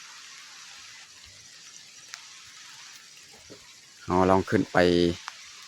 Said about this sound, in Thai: ฝนฟอยเลยพี่น้องเนาะฝนมา